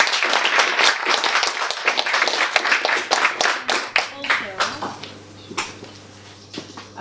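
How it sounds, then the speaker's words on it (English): Audience applause for a speaker at an evening talk, crisp, close hand claps that thin into scattered individual claps, while a voice starts speaking over the fading clapping. "Please, a big round of applause for your speaker."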